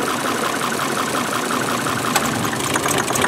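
A damaged Volvo S60 demolition derby car's engine idling roughly while leaking oil, a loud, steady, close mechanical rumble with a faint uneven knock and no voices.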